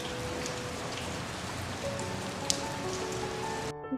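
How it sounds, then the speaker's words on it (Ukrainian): Steady warm spring rain pattering on a surface, with dense soft drops and an occasional sharper drip, continuous until it cuts off at the end. "Вірно, на весняний теплий дощик"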